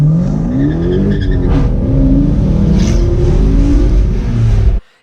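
Dodge Hellcat V8 engine accelerating hard, a loud, sustained close-up roar with rising and falling harmonic sweeps through gear changes before cutting off abruptly near the end.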